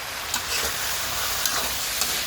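Fresh bottle gourd is stir-fried in a hot pan, a loud continuous sizzle with sharp spatula scrapes and clicks at irregular moments, close up and without speech.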